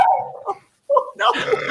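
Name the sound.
dog barking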